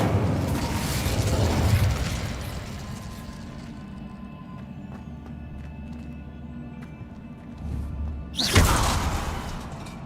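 Incendio fire spell cast in the video game Hogwarts Legacy: a whooshing fiery burst up front that fades into a low rumble, then a second sharp flare near the end, with no voices.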